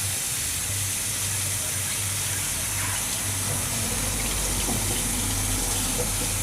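Running water pours in a steady, loud, close hiss from a tap as a plucked quail is rinsed, with no voices over it.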